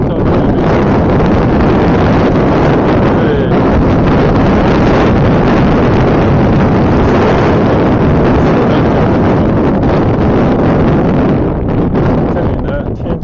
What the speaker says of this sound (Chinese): 这里呢天气又阴沉下来，刮起大风